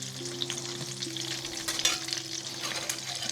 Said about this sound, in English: So that's just frying there.